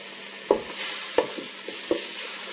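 Rinsed brown rice toasts in a pan, a soft continuous sizzle punctuated by three or four distinct scraping stirs spaced about half a second apart, close and alone.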